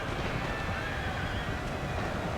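Cavalry horses charge in Napoleon: Total War, a dense, steady roar of massed hooves and battle noise with a faint whinny, continuous and loud throughout, no voices.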